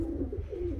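Tumbler pigeons give a soft, low, rolling coo, close and continuous over a brief moment, with no talk.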